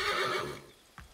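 A horse neighs in Assassin's Creed III, a loud, close whinny that fades out, followed by a brief soft thump.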